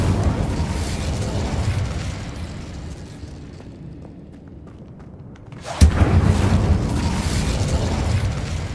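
A fire spell in Hogwarts Legacy fades into a quiet lull, then erupts in a sudden sharp blast followed by a sustained loud roaring, crackling burst that stays close and dense.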